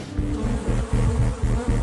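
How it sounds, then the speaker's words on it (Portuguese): A swarm of honey bees buzzes with a steady, dense drone that pulses slightly in loudness, close and continuous with no voices. "Por milhares de anos, os humanos têm usado as abelhas para polinizar colheitas e produzir cera e mel"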